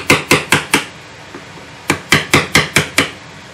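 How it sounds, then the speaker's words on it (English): A chisel is tapped sharply with a mallet while carving the back of a mandolin: two quick runs of four and six crisp, evenly spaced knocks, close and loud, with a short pause between them. "So I switch over to a chisel, and I just tap this out like so."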